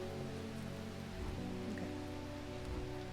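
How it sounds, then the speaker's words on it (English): Steady heavy rain falls in a dense, continuous hiss with a patter of drops striking a surface, close and unbroken throughout, under a low background hum, with one brief spoken word. "Bloody awful weather. Yeah, it's pissing down the rain."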